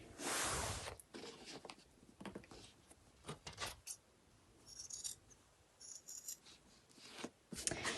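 Scissors snip through fabric, trimming the curved corners of a travel wallet in a string of short, crisp cuts and light rustles, close and quiet.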